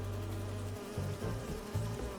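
Bees from the Spider-Man 2 video game buzz steadily, a droning hum that pulses and wavers in short surges as the insects move close by.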